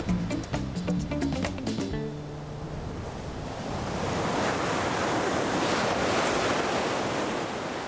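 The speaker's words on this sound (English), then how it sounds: "Big waves, warm water, all year round." Atlantic surf off Dakar, Senegal, rolls in as a broad, continuous roar of breaking waves with wind noise, swelling louder in the second half after a short burst of percussive music at the start.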